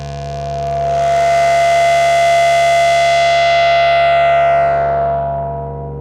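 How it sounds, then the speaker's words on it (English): A spring reverb caught in a feedback loop and tamed by a filter produces a sustained, siren-like droning tone with rich overtones that swells in, holds steadily loud, then fades away. "That means that instead of the feedback going crazy, you can tame the sound by controlling the filter."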